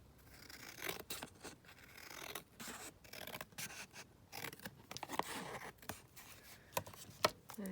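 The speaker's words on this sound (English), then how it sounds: "Right, let's cut this one down." Scissors snipping through card stock to trim floral journal cards, a series of short crisp cuts and scratchy rubs at close range with no talking.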